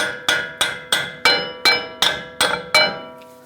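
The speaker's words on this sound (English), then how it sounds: "Just give the axle a light tap." A hammer taps a 2011-2018 Ram 1500 front inner axle shaft eight times in a steady rhythm, each strike a bright, ringing metallic clank that decays between blows and fades out at the end.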